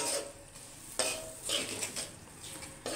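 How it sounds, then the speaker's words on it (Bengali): Spices stirred in a cooking pan for chicken curry give bursts of sizzling and scraping that come in uneven strokes, with metal-on-pan knocks, close up but fairly quiet and without speech. "মশলাগুলো একটু নেড়ে চেড়ে দেবো আর কি"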